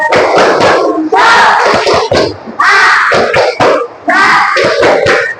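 Students in a classroom perform a rhythmic spirit clap, a group clapping together in several loud, repeated bursts with shouted chanting voices and brief pauses between rounds.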